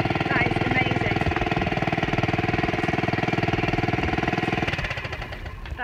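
A small engine idles close by with an even, rapid chug after grime was cleaned out of its fuel. It runs smoothly and steadily with no speech, then the throb eases and grows quieter near the end.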